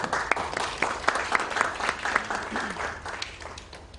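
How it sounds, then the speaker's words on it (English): An audience at an inaugural session bursts into applause, a continuous patter of many hands with a few crisp nearby claps, holding for about four seconds before easing off. "A round of applause"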